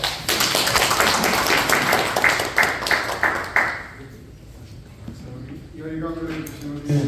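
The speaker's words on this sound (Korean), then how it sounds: "열강을 해주신 우리 장 교수님께 다시 한번 박수 좀 부탁드립니다" Seminar audience clapping for a professor at the end of a lecture, a dense patter of many hands that fades after a few seconds, followed by voices talking.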